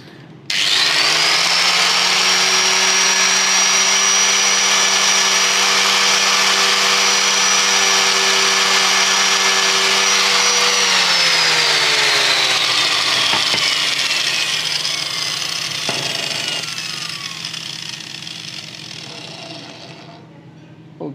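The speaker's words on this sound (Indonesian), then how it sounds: "Jadi ini bisa kita amplas, baik itu menggunakan amplas manual atau menggunakan mesin." A loud electric sander drones steadily against wood while making a PCB board clamp, for a long stretch, its pitch dropping partway through before it slowly winds down near the end.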